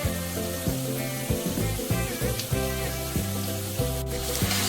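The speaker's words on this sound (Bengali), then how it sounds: "এখন ভালো করে কষিয়ে নেব যতক্ষণ অবধি তেল ছাড়ছে। দিয়ে দেব হলুদ, দিয়ে দেব লঙ্কা," Turmeric and chili powder sautéing in hot oil for a pabda fish curry with mustard and poppy seed, giving a steady close sizzle under prominent tonal background music.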